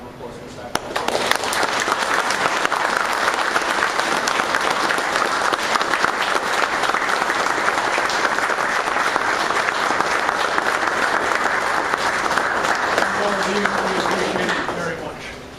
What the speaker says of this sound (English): I think the Finnegan family deserves a round of applause for the sacrifice